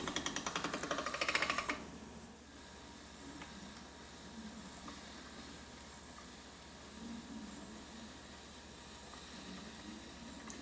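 A pasta machine rolls sheets of pasta dough for marubini, giving a close, rapid rhythmic mechanical clatter for under two seconds before fading to a quiet background hum.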